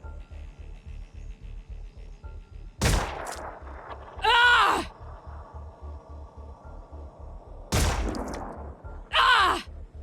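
Gunfire in the tactical video game Phoenix Point: two loud bursts of shots, each followed by a groaning cry, over a steady low rhythmic thumping background.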